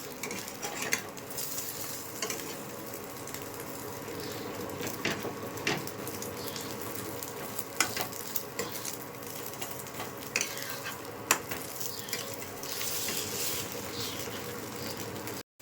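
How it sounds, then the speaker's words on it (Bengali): An egg omelette frying in a pan, with a steady quiet sizzle and occasional clinks and scrapes from stirring against the pan, fairly faint and without speech. "ডিমটা ভাজা হয়ে গেছে, তুলে নিচ্ছি।"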